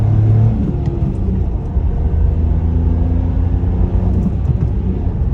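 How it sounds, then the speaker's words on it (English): A 2022 Mitsubishi Mirage G4 with a manual gearbox pulls hard in second gear, its small engine droning and revving steadily with a loud, continuous rumble heard from inside the car. "Taking a step out, taking second gear on the gas, not a lot of torque. You got to really rev it out"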